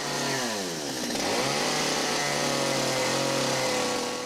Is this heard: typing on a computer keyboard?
no